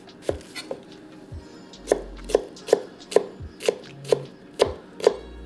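A knife chops a red onion on a cutting board in a series of crisp, close strikes, a couple of scattered hits at first and then a steady, even rhythm of about eight more.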